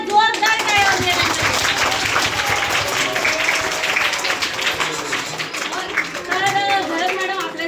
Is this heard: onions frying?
no